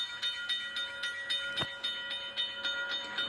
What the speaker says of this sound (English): Red Steam Train. Wow, here comes Red Steam Train.